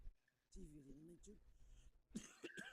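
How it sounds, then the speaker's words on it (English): A voice speaks briefly, then a rough cough breaks out near the end, close and fairly loud. "Sorry for the cough."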